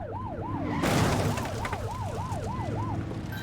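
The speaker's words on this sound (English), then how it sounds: "Get on their tail and flip the siren." A police car siren in the video game The Precinct starts up with a sudden burst of engine and road noise, then wails in a steady, rapid up-and-down cycle, loud and close.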